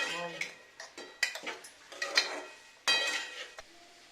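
Ridge gourd curry being stirred with paste in a pan, giving irregular metallic scrapes and clinks of a spoon against the pan, close by in short bursts with pauses.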